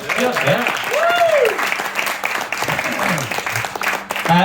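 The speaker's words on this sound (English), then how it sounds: "So, let's have some applause." An audience applauds at an evening talk about independence, a sustained round of clapping with cheers and voices mixed through it.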